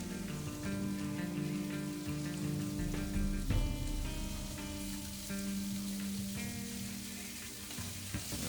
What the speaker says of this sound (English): Let that sizzle a bit and brown, flip it around.